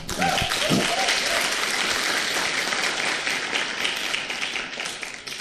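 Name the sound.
applause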